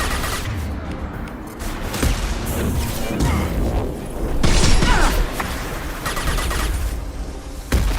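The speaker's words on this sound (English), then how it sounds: "Who the hell's still shooting at me from that angle?" Gunfire rattles through a firefight in Mass Effect 2: dense, loud bursts of shots crack over one another with little pause, swelling to a heavier volley in the middle.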